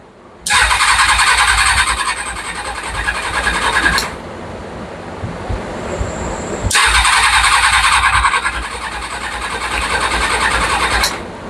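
A Kawasaki Ninja ZX6R motorcycle engine cranks over on its starter to prime the oil, in two loud sustained bursts of whirring, each about three and a half seconds long, with a quieter pause between them.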